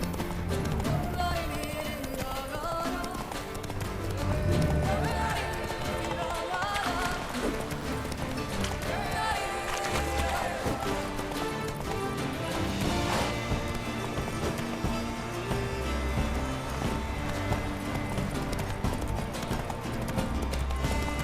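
Roach, a horse in The Witcher 3: Blood and Wine, gallops with steady clip-clop hoofbeats under a full bed of game music and ambience, with the hooves fairly faint in the mix.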